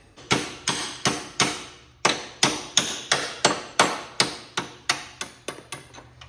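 Repeated sharp metal hammer strikes driving out a roll pin on a Cub Cadet mower, about fifteen blows in a steady rhythm with a brief pause after the first few, ringing close and clear.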